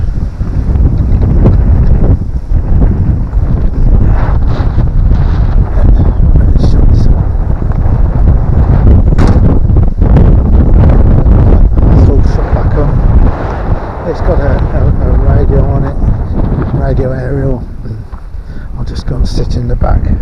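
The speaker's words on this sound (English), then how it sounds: "Can't you hear the wind?" Wind buffets the outside of a parked Mazda Bongo campervan, a loud, steady broadband rush with gusty surges that holds for the whole stretch, while a person speaks over it.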